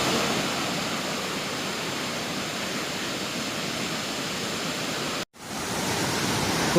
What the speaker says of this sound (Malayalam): ഞാൻ വിചാരിച്ചുകൊണ്ടിരുന്നത് ചെറിയൊരു വെള്ളച്ചാട്ടമാണ്